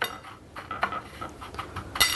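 A spoon clinks and scrapes against a bowl as a crushed garlic breading coating for salmon is mixed, with a few soft irregular knocks and one sharper clink near the end.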